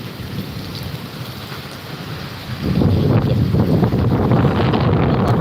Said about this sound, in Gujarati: અમરેલીમાં ભાઈ ધોધમાર વરસાદ છે